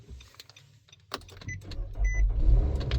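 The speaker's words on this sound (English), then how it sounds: "Here we go, the car starts." A 2020 Nissan Rogue's engine cranks and catches, then settles into a low, steady rumble up close, with a few clicks and a brief whir beforehand.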